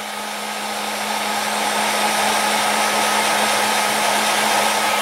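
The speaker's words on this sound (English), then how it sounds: "But you hit it with the heat gun again." A heat gun dries panel line wash on a Revell 1/100 Halo UNSC Pelican plastic model kit. It blows as a steady, loud, close whooshing roar with a faint hum, continuous and alone throughout.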